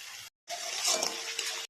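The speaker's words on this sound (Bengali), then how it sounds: "গরম মশলার গুঁড়ো দিয়ে মশলাটা একটু কষে নেব" Spice paste made with cumin powder, a little water and garam masala, sautéed in a pan for a vegetable dal: a close, frothy sizzle that stops briefly, then comes back louder and steady.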